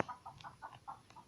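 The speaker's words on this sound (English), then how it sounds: "I don't know what this chicken's going off about, but they've been going off pretty much all day." A chicken clucking nearby, a short run of about six quick, faint clucks in uneven rhythm, heard alone.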